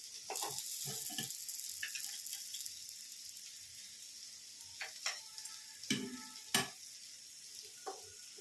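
Paneer fries in a pan over high heat, a faint steady sizzle broken by several sharp spatula taps and clacks.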